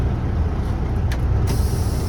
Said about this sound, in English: I'm going to release both brakes and pull forward up to 5 miles an hour